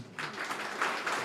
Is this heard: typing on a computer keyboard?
no